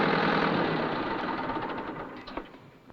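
A Ford tractor engine runs with a loud, steady rumble that slowly fades, with a faint knocking near the end.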